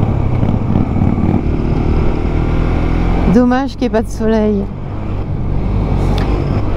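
A motorcycle rides up the D177 over the Col des Trois Termes mountain pass toward Murs, its steady engine and wind roar continuous and loud, with a rider talking briefly in the middle.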